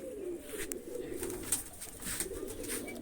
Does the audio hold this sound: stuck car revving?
no